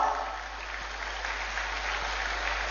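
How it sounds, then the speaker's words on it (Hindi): Audience applause at a government ceremony in Chaibasa with the Chief Minister, a steady wash of clapping from a crowd, moderately loud and continuous, with a low hum beneath. "तालियां आपकी ओर से जरूर हो।"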